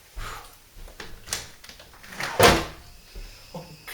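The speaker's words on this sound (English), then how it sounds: "open this door" A door opened indoors, with a loud creak and thump peaking midway, surrounded by softer handling knocks and clatter, no talk.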